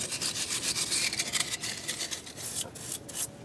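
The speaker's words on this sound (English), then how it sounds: "Work with a brake brush." A brake brush scrubs solvent-soaked grime off a front brake part on a 3rd gen F-body car, with steady close scratchy bristle strokes in a brisk rhythm and no talking.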